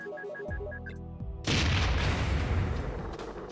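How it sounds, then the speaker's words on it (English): Airstrike explosions in the Perfect Dark Chaos mod: a short run of game tones gives way to a sudden heavy blast that rolls on as a loud, sustained rumble of explosions. "Let's go do some airstrikes."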